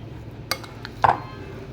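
Chicken and potato filling being mixed in a bowl gives a few sharp, close clinks of a spoon against the dish over a quiet background hum.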